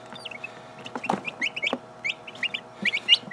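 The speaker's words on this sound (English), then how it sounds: "We have turkeys hatching off." High, thin peeping from a few newly hatched turkey chicks, short chirps repeating irregularly and fairly close, with no talking.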